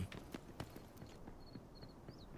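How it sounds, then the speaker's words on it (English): Soft, quick footsteps in the shooter Delta Force, a faint run of light taps at a steady gait with a few brief high tones over a low background. "can hear footsteps"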